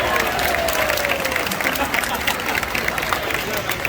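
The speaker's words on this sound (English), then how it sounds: "round of applause for your volunteer" Audience applause at a theme park show in Animal Kingdom, a dense wash of clapping and crowd noise that holds steady throughout, with chatter mixed in.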